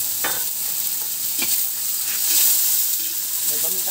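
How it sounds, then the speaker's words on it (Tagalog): Vegetables sautéing in a pan for pansit bukid, a steady close hiss of frying with a few sharp stirring scrapes, fairly loud and continuous, with faint voices in the background. "Ginigisa muna guys."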